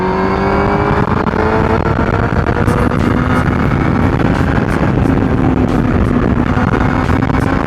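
A sport motorcycle speeds up on the road, a loud, close, continuous engine roar with rising tone under steady wind rush, no voices.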